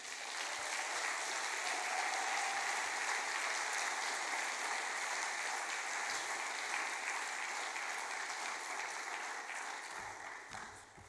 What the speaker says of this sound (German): Vielen Dank für den herzlichen Applaus.